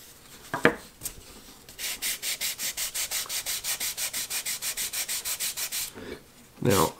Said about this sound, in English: We'll sand in a little bit of a bevel here, but we want this almost to be a sharp edge.